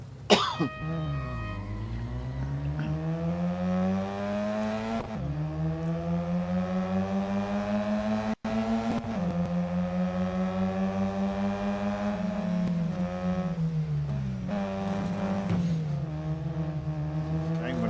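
Electric Formula E race cars on the Berlin circuit in the Real Racing 3 video game, a rising and falling whine that climbs with each surge of speed, with a commentator talking over it.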